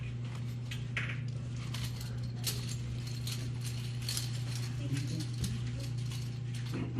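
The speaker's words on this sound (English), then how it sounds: "Better put them keys right back into the pocket." A set of keys jingles and clinks in a light, continuous metallic patter against a loud, steady hum, during a police arrest encounter.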